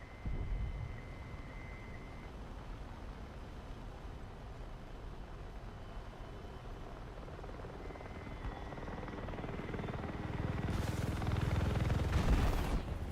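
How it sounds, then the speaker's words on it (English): Helicopter in the War Thunder combat game, a steady rotor and engine drone throughout that swells louder and closer toward the end, with sharper bursts near the close. "Oh, that's a helicopter."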